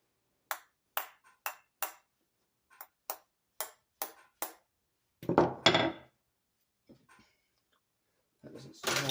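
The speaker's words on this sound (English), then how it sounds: "So we're going to take a hammer and tap it off." Hammer tapping on a metal part of a Yard Machines 6.5 hp lawn mower, about ten sharp ringing taps in a steady rhythm, followed by a louder clanking scrape and more clatter.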